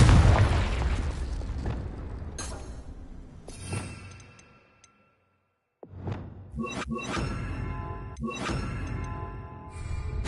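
Confringo spell explosions in the video game Hogwarts Legacy: loud booming blasts with bright crackling bursts, one after another, a brief silent gap midway, then several sharper impacts.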